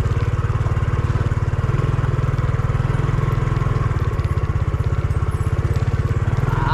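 A Honda XRM motorcycle engine runs steadily and close on a muddy road, a loud, even, low putter that continues without a break and with no voices.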